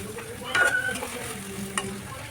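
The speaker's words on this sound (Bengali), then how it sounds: "মুরগিগুলো ভাজি হওয়ার পর আমি কড়াইতে পেঁয়াজ দিয়ে দিয়েছি, সাথে দিয়ে দিয়েছি আগে থেকে করে রাখা সমস্ত মশলা" Onion and ground spices such as cumin and turmeric fry in a wok for a chicken roast, giving a steady soft sizzle with a couple of sharper stirring scrapes over a faint background hum.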